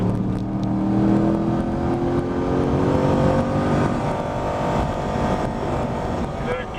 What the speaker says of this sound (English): Back to the throttle, heading down the hill.